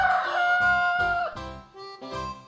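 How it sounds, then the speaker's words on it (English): A rooster crows in a farm-animal sound sequence, giving a loud, close, drawn-out cock-a-doodle-doo with clucking fowl notes following, heard alone without talk. "chicken"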